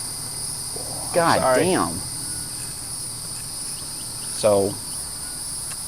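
Crickets chirping as a steady high-pitched trill throughout, with two short bursts of people talking over it.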